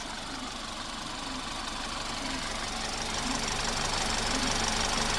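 Ex-police BMW engine idling with a damaged engine mount, a steady low rumble with a faint rhythmic knock, gradually growing slightly louder, no talking.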